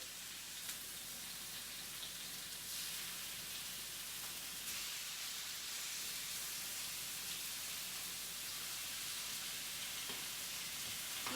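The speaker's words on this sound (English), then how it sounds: "What I want to hear is the chicken sizzle when I put it in the pan." Steady, hissing sizzle of chicken frying in a pan, continuous and fairly even throughout with no voices.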